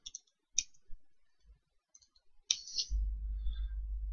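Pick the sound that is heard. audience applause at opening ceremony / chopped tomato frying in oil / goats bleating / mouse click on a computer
mouse click on a computer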